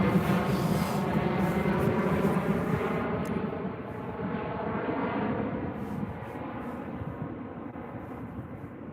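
A Boeing 787 Dreamliner climbs out of Birmingham Airport into fog, its jet engines a steady, fairly loud roar with a low rumble that eases slightly as the aircraft moves away.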